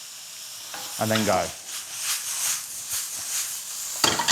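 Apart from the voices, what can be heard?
batter-coated prawns sizzling in pan after adding water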